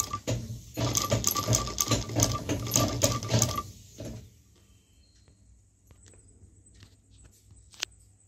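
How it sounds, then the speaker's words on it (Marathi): Domestic sewing machine stitching a strip of old saree fall fabric onto cotton cloth, a steady close mechanical whirr running for about four seconds before stopping, followed by quieter handling and a small click. "आता शिलाई सुद्धा करून दाखवते की कशी शिलाई येते"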